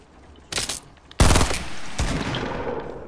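Loud video game gunfire: a quick burst, then a heavier close volley and a trailing burst, punchy and near with almost no talking.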